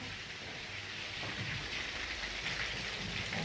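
Cutlets fry in a pan with a steady, hissing sizzle that carries on evenly throughout, like a constant spatter of fat heard close by.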